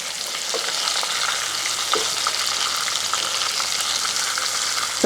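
Chicken pieces frying in hot oil for a chicken curry, a steady close crackling sizzle with occasional stirring, and no talk.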